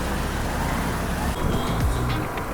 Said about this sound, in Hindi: ट्रैफिक ज़्यादा है यहाँ पर, ट्रैफिक काफ़ी ज़्यादा है